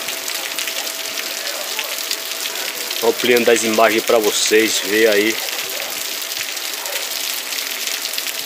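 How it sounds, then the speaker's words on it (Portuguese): Heavy rain pours down on a town square in a steady, dense hiss that fills the whole clip, with someone talking over it partway through. "Agora que vai cair chuva, viu? Muita chuva mesmo."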